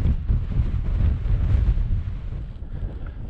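Wind gusts across a mountain plateau near Broad Cairn in Glen Doll, producing a continuous low buffeting rumble against the microphone with no speech.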